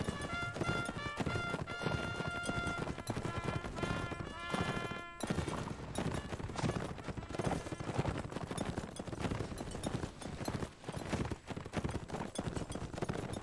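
Steady clip-clop of several horses' hooves in a video game, loud and continuous, with occasional whinnies and a bit of background noise.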